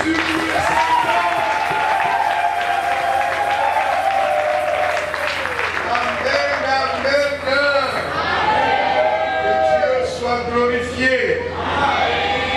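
A church crowd at a fifth-anniversary seminar cheers and applauds for Jesus in a long, steady wave of clapping, with shouts and loud voices rising over it throughout.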